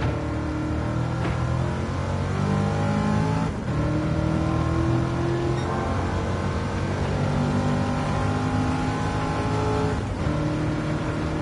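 Corvette C7 race car from Gran Turismo 7 revving steadily at close range, its engine note climbing and dropping through gear shifts, with a couple of brief sharp dips, loud and continuous with no talking.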